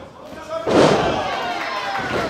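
Wrestler slammed onto the mat by a Russian leg sweep during a women's wrestling match, a single heavy thud rising out of crowd noise and a commentator's voice that continues over it.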